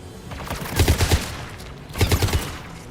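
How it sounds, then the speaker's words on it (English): Anti-aircraft guns fire in the video game Mass Effect 3, two loud bursts of rapid booming shots heard close, separated by a short pause. "The anti-aircraft guns."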